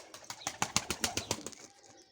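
Pigeons taking off together: a quick flurry of sharp wing flaps, close and fairly loud, lasting about a second and a half before fading as the birds fly away.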